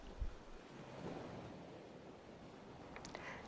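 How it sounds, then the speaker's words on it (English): Ocean surf washes onto an island beach in a faint, steady roar of breaking waves with some wind rumble against the microphone; there is no speech, and a few soft higher clicks come near the end. "the waves bounce off and come ashore again further down the beach"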